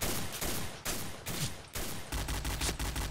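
Rapid gunfire from a shooting video game, dense bursts of shots packed close together, loud and continuous with brief gaps, heard alone without voices.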